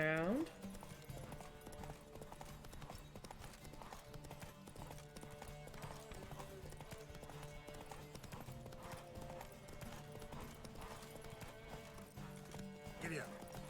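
Galloping horse hooves in The Witcher 3 keep up a steady clip-clop rhythm throughout, layered with game music and an occasional whinny, while a player talks over them.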